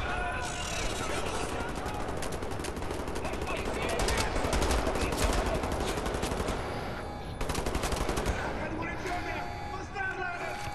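Automatic pistol gunfire in the video game Wolfenstein: The New Order, a dense run of rapid shots with busy game sound around it, while someone talks over most of the action.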